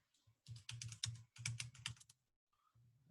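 Fast bursts of typing on a computer keyboard, close and crisp, with a run of clustered keystrokes, a brief pause, then a few more taps.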